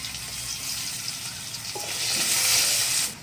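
Potatoes with whole cumin seeds frying in oil in a pan, a steady bright sizzle throughout, swelling louder near the end before cutting off, with brief stirring touches.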